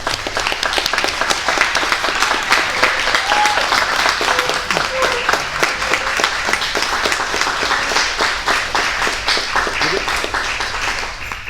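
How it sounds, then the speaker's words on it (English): Sustained applause from an audience honoring a state champion high school track team at a school board meeting, dense and steady clapping throughout with a faint voice briefly underneath. "give a big congratulations, a round of applause for our state champion and our all-state track participants for Volunteer High School"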